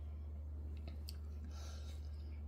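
A bite of creamy homemade chicken pot pie being chewed close to the microphone, soft moist squishing and a few faint crunches of crust over a steady low hum, with no talking.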